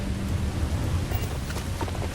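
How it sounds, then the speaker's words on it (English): A corrosive liquid thunderstorm in the game Starfield: steady dense rain with low rumbling thunder beneath, constant and enveloping, no talking. "Corrosive liquid thunderstorm."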